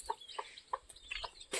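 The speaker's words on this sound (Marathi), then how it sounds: "आपला कोंबडा." A rooster in a poultry shed gives a quick series of soft, short clucks, several evenly spaced near calls that are fairly faint, followed by a brief burst of sound at the end.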